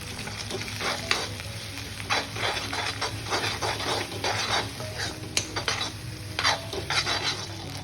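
Egg rice with chilli is stir-fried in a pan, a continuous sizzle overlaid with repeated scraping and clinking strokes of a utensil against the metal, moderately loud and close.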